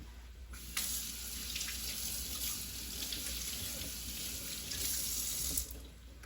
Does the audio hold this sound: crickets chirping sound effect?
no